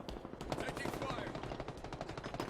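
Rapid automatic gunfire from a sci-fi shooter video game firefight, dense overlapping bursts and impacts throughout, with faint game voice chatter mixed in.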